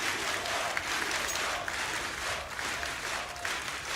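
A large arena crowd at the ESL One Katowice 2015 CS:GO quarterfinal applauds and cheers steadily, a dense, even roar of clapping that fills the whole stretch without letting up.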